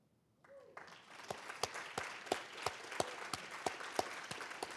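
Audience applause for staff standing up at an annual celebration event, a broad crowd clapping that swells after a brief pause and continues steadily with a few sharper claps standing out.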